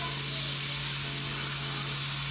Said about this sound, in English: It's sizzling, baby.